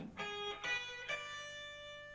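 Electric guitar in a neoclassical metal style plays a short lick of three sustained distorted notes, each sharply picked and ringing with rich overtones, the last note held and slowly fading.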